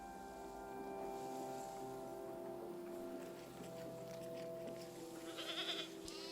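A goat bleats near the end of a video game over steady droning ambient music, with a soft, game-like background.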